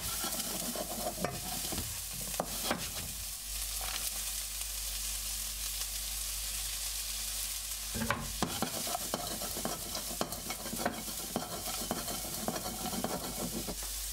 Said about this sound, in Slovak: Pridáš zázvor, cesnak a čili a hneď pridáš mrkvu, celer a za stáleho miešania prudko opekáš.